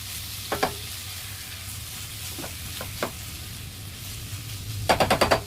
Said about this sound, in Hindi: नमक डाल के मैं इसको थोड़ा सा मिक्स करके